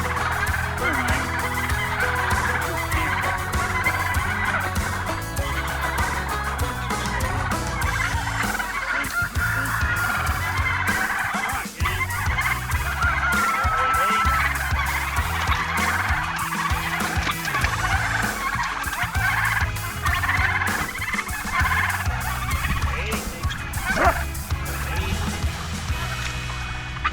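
A crowd of farm turkeys gobbling at feeding time during morning chores, a loud continuous chorus of overlapping gobbles and clucks, close up and sustained throughout.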